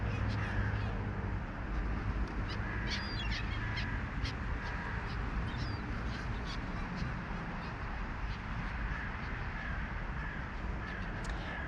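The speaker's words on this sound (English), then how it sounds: "crows going after the black-headed gulls" Crows caw repeatedly in an open grain field where black-headed gulls gather, the calls coming in irregular bursts at moderate distance over a steady outdoor background.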